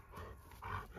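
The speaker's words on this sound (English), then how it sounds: "You can teach that dog to bark in order to flush the prey item out." A dog in obedience training barks on command, giving a couple of short, close barks within about a second against a quiet background.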